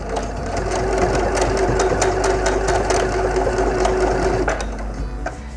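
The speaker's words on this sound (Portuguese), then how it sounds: "vou passar a costura em cima do elástico, justo na zona onde temos a nossa costura do cós" Sewing machine stitching over elastic on a skirt waistband, a steady fast mechanical whirring hum with rhythmic needle clatter, close and continuous, then slowing to a stop near the end.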